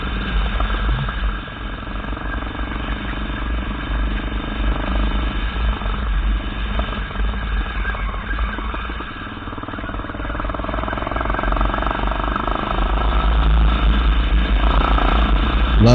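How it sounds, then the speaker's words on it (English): A Kawasaki KLR motorcycle engine rumbles steadily through the whole stretch while riding dirt roads, a continuous low, close drone that grows slightly louder near the end, with no talking over it. "Love the sound of the KLR rumbling in the background."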